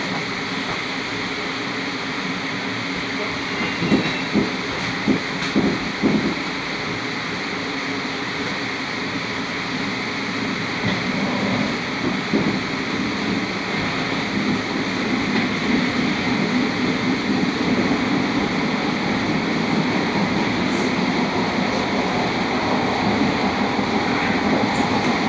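Steady loud rumble of an RER D suburban train heard from inside the carriage as it runs, a continuous broadband roar with a few soft clunks early on and no voices.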